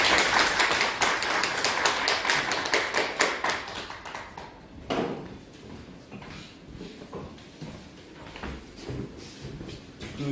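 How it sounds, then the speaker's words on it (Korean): A lecture hall audience applauds at the end of a lecture in a standards course: dense, steady clapping from many hands, loud at first and gradually thinning into scattered claps. "박수로 다시 한번 부탁드립니다"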